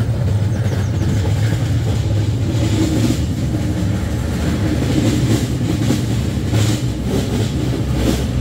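An amusement park train ride at a Moroccan Sindibad park rumbles along continuously with a steady low roar and faint rhythmic rail clatter, loud and close, with no voices.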